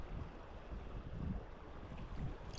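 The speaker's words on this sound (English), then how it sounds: "Now the wind's really picking up here." Wind picking up over a river pool during fly fishing, a steady low rushing roar against the microphone with gusty swells and no speech.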